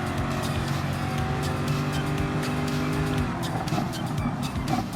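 A Corvette race car in Gran Turismo Sport on a Gr.3 endurance race at Dragon Trail Gardens, its engine droning at a steady high pitch, then the note drops and shifts as it brakes and downshifts.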